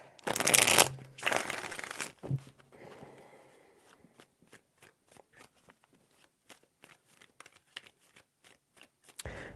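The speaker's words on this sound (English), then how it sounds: "Three shuffles." Tarot cards are shuffled by hand in a few quick riffling bursts, followed by a run of soft, evenly spaced taps and card placements, close and otherwise quiet.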